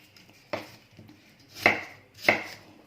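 A knife chops through apple on a cutting board for a cake, three distinct close thuds spaced apart, crisp and alone with no talking.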